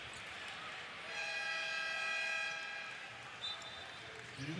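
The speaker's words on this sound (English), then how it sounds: "And we have a whistle." A referee's whistle sounds over crowd noise at a FIBA Europe Cup semi-final basketball game between UCAM Murcia and PAOK, a sustained shrill tone lasting about two seconds over a steady arena roar, followed by a short second chirp.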